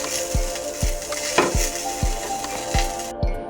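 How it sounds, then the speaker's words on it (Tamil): Green chilli, coriander and curry leaves with salt sauté in a pan, a continuous close sizzle broken by a spatula knocking the pan at a regular, unhurried rhythm, about six or seven taps. "இதில் கொஞ்சம் உப்பு சேர்த்து நம்ம வதக்கிட்டு இருக்கோம்"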